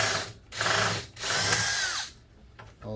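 A power drill backs screws out of a microwave being scrapped, with three loud bursts of whirring close by and short pauses between them, the motor pitch sliding down as it winds off.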